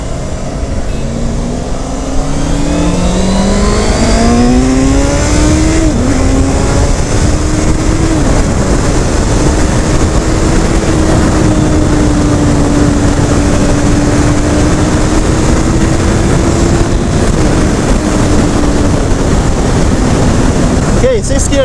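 Honda CBR650F motorcycle cruising in sixth gear at around 6,000 RPM and 125 km/h, its steady engine hum buried under heavy, constant wind roar against the rider's microphone, loud and continuous throughout.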